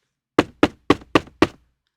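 Five firm knocks on an apartment door in an even rhythm, close and distinct, each one short and dry, followed by silence.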